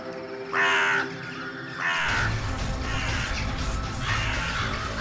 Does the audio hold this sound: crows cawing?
yes